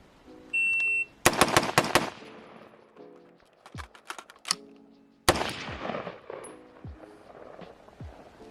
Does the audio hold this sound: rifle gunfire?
yes